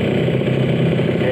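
RXS 150 cc motorcycle engine, freshly assembled with a 54 mm stroke and 59 mm piston, idling close up with a steady rough putter and light mechanical clatter, loud and unbroken.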